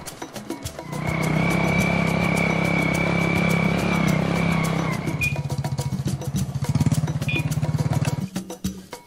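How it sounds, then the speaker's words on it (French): A motorcycle engine drones steadily at a constant pitch while riding, then shifts to a rougher, pulsing putter as it slows or changes gear. The sound is close and loud throughout, with no speech. "Ensemble avec lui, nous nous dirigeons à moto chez Ntumwa Ubin Mouyokolo."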